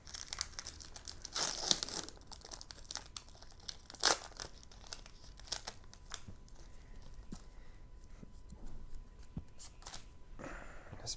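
Crinkly foil of a Pokémon card booster pack being torn and pulled open by hand, with bursts of crumpling and ripping scattered through the stretch, loudest near the start and middle, close by and without talk.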